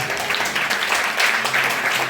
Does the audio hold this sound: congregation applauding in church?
yes